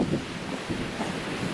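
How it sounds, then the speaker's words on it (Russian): Strong wind gusting across an exposed Southern Ural mountain ridge near Kruglitsa peak, buffeting the microphone in steady low roaring bursts with no voices. "Адский ветер."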